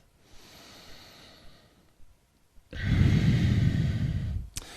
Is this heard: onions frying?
no